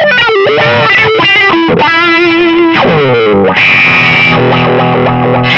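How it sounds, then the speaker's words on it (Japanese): Electric guitar played through a wah pedal with added distortion gives a loud, continuous run of gritty, sweeping notes and chords, the tone opening and closing as the pedal is rocked, with no talk over it. "これちょっと歪みちょっと足してみたらやんちゃなのかな。"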